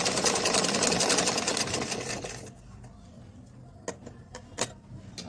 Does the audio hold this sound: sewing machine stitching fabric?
yes